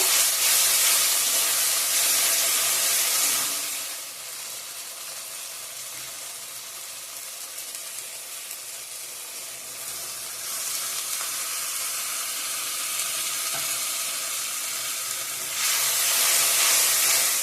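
Mushroom curry sautés in hot oil in a pan, a continuous loud sizzle and hiss that dips quieter in the middle stretch before swelling again.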